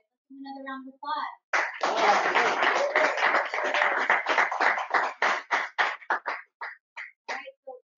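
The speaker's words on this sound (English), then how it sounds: "Another round of applause." Applause from the audience at a livestreamed political congress launch event, a burst of many hands clapping that starts after a brief voice and then thins into scattered individual claps toward the end.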